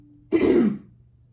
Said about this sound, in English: Here I go with the coughing again.